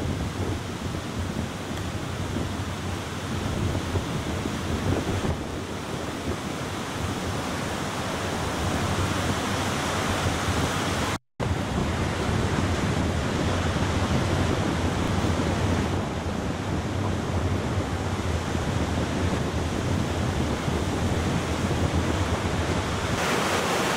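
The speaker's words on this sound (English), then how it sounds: "I'm going to find a place that's less windy because the wind's affecting me now." Strong storm wind and heavy ocean surf at Willard Beach, a loud, continuous roar of crashing waves and wind buffeting the microphone, briefly cut out midway, with no voices.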